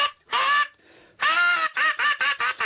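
A simple duck call blown on a duck hunt to imitate a mallard's quack: one long honking note, a pause, then a longer quack followed by a quick rhythmic series of four short quacks, loud and close.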